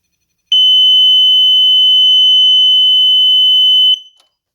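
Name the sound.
electronic sound grenade beeping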